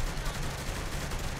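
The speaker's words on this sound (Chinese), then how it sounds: "我哋要开始开枪" Gunfire in the video game Saints Row: The Third rattles out as a dense, continuous burst of loud shots filling the whole moment.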